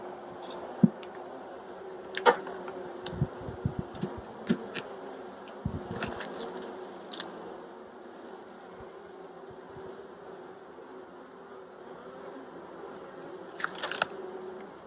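Honey bees drone around a hive in Tennessee in a steady, moderate buzzing, broken by a few brief clicks and knocks. No one speaks.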